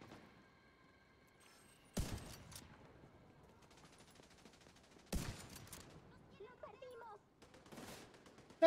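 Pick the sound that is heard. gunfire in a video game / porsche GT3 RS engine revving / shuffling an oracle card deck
gunfire in a video game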